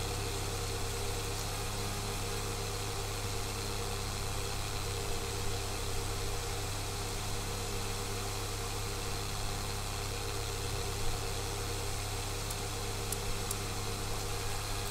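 Tractor engine running steadily in Farming Simulator 22 while heading home at around forty speed with a trolley and machine, a constant low drone with no pauses.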